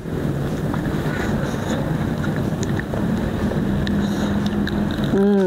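Outdoor wind blowing in front of a house, with trees swaying nearby, makes a steady, rough rush of noise against the microphone that continues throughout, and a short tonal sound comes in near the end.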